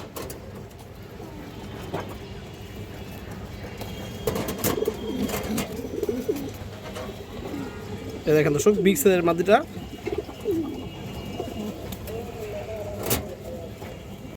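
A big army-breed female pigeon coos softly near someone talking, with a louder burst of cooing and wing flutter partway through and faint traffic in the background.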